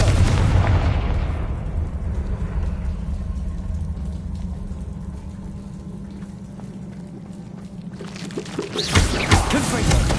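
Confringo fire-spell explosions boom in Hogwarts Legacy on PS5, a dense, continuous roar of blasts and crackling fire lasting throughout, with a fresh loud burst near the end.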